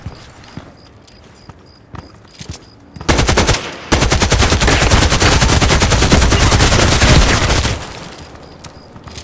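AK-12 assault rifle fire in the video game Contract Wars: a few isolated shots, then a loud, close, rapid automatic stream of gunfire lasting several seconds before it stops, with quiet game ambience around it.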